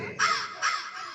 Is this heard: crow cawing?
yes